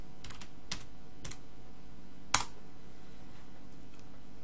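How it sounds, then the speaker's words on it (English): Sparse keystrokes on a computer keyboard: a few scattered taps, one sharper and louder, against quiet room background. "If I type here, for example,"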